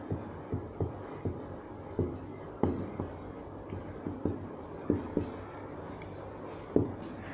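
Teacher writing out a geometry problem, faint scratchy pen strokes and soft taps in irregular bursts, quiet and close with low room noise.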